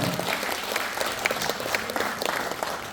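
An audience applauds at an event in a Seoul arts hall, a steady sustained wash of many hands clapping, fairly loud and continuous with no talking over it.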